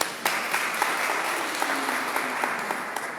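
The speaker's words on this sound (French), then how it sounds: "Nous allons les applaudir" Sustained applause rises from a church prayer-meeting congregation honoring the moderators, a steady bed of many hands clapping with a few sharper individual claps popping out above it.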